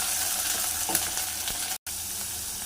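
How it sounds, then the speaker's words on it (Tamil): Mint leaves, ginger, curry leaves, garlic cloves and small onions sauté in a hot pan, giving a steady, close, dense sizzle with a few soft stirring scrapes and one brief dropout near the end. "தேவையான அளவு புதினா இலை, இஞ்சி, கருவேப்பிலை, 10 பல் பூண்டு, நல்லா வதங்கட்டும் எல்லாமே."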